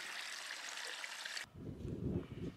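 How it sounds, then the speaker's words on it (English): Clear, cold spring water pours from a pipe along a mountain trail, a steady bright hiss that cuts abruptly to a lower, fuller gurgling splash partway through, close and continuous with no talk. "Clear, cold water coming right out of the pipe up here."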